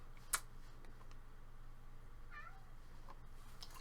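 A pet cat at an office door lets out a faint, brief meow against a quiet room hush, with a small click just before.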